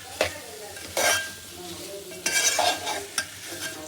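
Raw mango relish being stirred in a pan, with several close scraping and clinking strokes of a spoon against metal over a soft sizzle.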